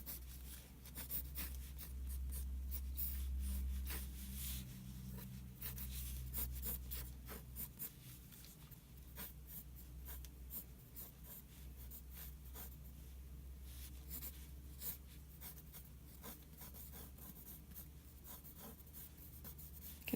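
Pencil drawing a clothed figure on paper, with continuous close scratchy strokes and rapid ticking marks running throughout, steady and faint with no talking.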